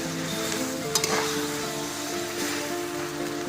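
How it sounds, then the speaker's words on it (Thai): Home-style chicken stir-fries with holy basil in a pan, a close, steady sizzle with a couple of quick spatula clacks on the metal as it is tossed. "ผัดให้เข้ากันนะครับผม กลิ่นหอมมากเลยครับ"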